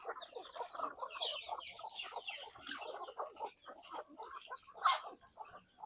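Native country chickens on a farm cluck and chatter together, a busy overlapping chorus of short clucks and calls from several birds at close range, fairly quiet overall.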